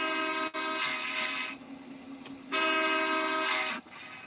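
A locomotive horn in the Roblox train game High Iron blares in long sustained chords, cutting out briefly and sounding again in two main blasts, loud and close with no talking.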